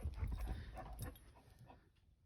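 A dog frustrated by birds whimpering and whining in short plaintive bursts close by, fading toward the end.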